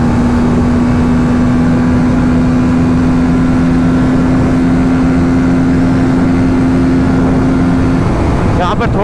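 A TVS Apache RTR 310 motorcycle pulls hard in sixth gear, its engine holding a loud, steady high drone for about eight seconds before easing off near the end, with wind rush over it.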